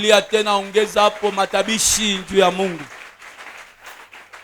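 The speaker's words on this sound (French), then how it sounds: "Acclame pour la gloire de notre Dieu. Acclame encore une fois." A church congregation bursts into applause and acclamation after a voice speaks, a broad wash of clapping that fades over the last seconds.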